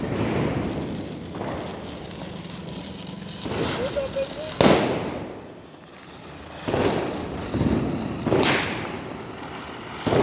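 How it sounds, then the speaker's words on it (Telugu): A ground spinner firework (bhoo chakram) burns during Deepavali celebrations, giving repeated fizzing, whooshing bursts with sharp crackles and gaps between flares, close by and loud, with voices of people around it. "భూచక్రం కాలుస్తున్నావా?"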